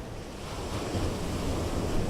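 Sea waves wash continuously onto the shore in a steady broadband roar, with wind buffeting the microphone and no voices.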